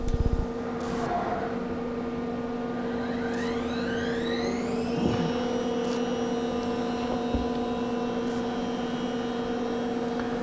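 A CNC router spindle runs with an Amana 1/2 inch radius plunge roundover bit, a steady tonal whine and hum with rising pitch sweeps as it spins up and moves, plus occasional brief clicks; no talking.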